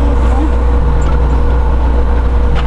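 A truck's engine droning steadily inside the cab while driving, loud low rumble with road noise throughout, with faint voices in the background.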